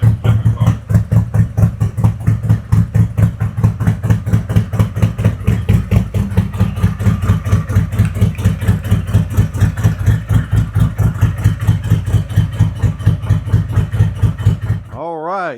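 A 2021 Harley-Davidson Road Glide 114 with a CR483 cam and new mufflers runs at a loud, choppy idle, its deep rhythmic thump steady and close until it cuts off abruptly near the end.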